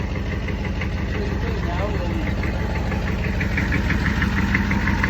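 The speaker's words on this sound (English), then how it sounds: "It's the only vehicle that sounds like it's rod knocking while idling" A retired Humvee's naturally aspirated 6.5 liter diesel idles with a steady, rapid knocking clatter like rod knock, loud and close, with a voice briefly audible underneath.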